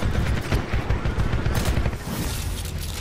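Rapid, heavy gunfire from a Titanfall 2 match, a dense, loud stream of overlapping shots and booms close by that runs without a break for the whole stretch.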